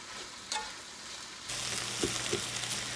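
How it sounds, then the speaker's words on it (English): Fried rice made from leftovers is stirred in a pan: a quieter hiss jumps to a louder, fuller sizzle midway, with a couple of spatula scrapes and knocks on top. "And then just mix it all up."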